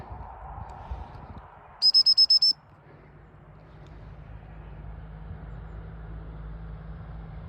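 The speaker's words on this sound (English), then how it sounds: "I'll whistle it to me now so you can see" A short burst of five quick, high whistle pulses, bright and clear, over quiet outdoor background hum.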